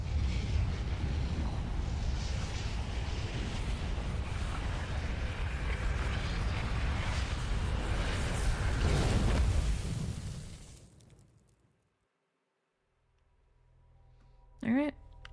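The sun going supernova in the Outer Wilds video game, a loud, roaring rumble that builds for about ten seconds before cutting to near silence, followed by a brief faint tonal sound.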